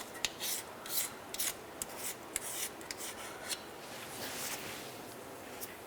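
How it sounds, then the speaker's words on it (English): Flat razor blade scraping gasket maker off the oil pan of a 2007-2011 Toyota Camry, a series of light, quick, close scrapes in an uneven rhythm, soft and raspy with no talking. "take a nice flat razor blade, obviously be very careful, and then all we want to do is just kind of lightly skim across this as flat as possible"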